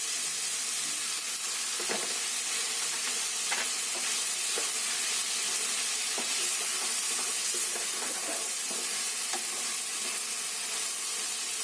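Tomatoes frying in hot oil for a cabbage sabzi give a constant bright sizzling hiss, with a few soft stirring clicks and pops over it and no voices.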